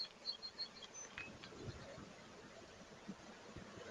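A soft, steady insect drone of many honeybees around a hive fills the background, faint and continuous, with occasional brief higher buzzes passing near.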